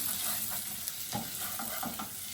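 Onion sizzling as it sautés in a pan for paneer mutter masala, a constant frying hiss with a few soft stirring scrapes, close and steady, no talking.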